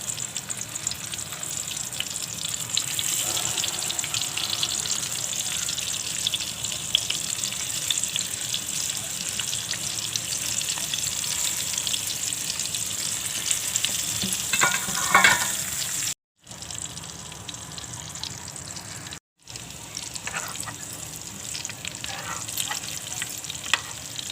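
Bitter gourd (karela) pieces frying in a pan, a steady continuous sizzle with occasional stirring scrapes, heard alone at moderate level with two brief dropouts.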